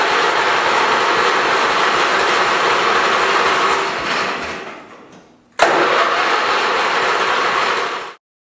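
An old Sears Suburban lawn mower engine sputters and catches, running loud and rough, fades out briefly, then roars back to life before cutting off abruptly.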